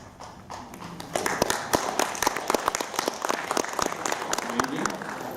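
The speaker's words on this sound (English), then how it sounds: "What are you applauding for?" Audience applause breaks out at a Toronto Hakka conference, a dense run of sharp, close hand claps that starts after a quiet moment and keeps going steadily to the end.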